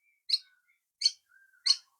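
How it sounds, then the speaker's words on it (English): A baby bird near its nest outdoors gives three bright, high chirps about evenly spaced, with faint thin calls between them, fairly close and clear against silence. "we have a really noisy bird here, so I do apologise for that"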